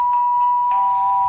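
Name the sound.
doorbell in a Clockwork Orange clip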